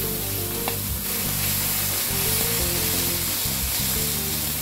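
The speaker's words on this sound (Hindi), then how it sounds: "तो अब मैं बीन्स को निकाल के डालती हूँ।" Boiled beans hit a hot tawa for a mallai chicken boti dish and sizzle steadily, a loud continuous frying hiss with a low background hum and no talking.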